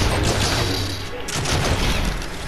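Rapid gunfire bursts in the video game Fortnite, loud dense volleys of shots rattling continuously with a deep boom underneath, with a voice talking faintly in the mix.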